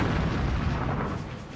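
Heavy gunfire from a WWII German battleship's salvo, a dense, continuous rumbling roar of booms that stays loud throughout and tails off slightly, with no voices.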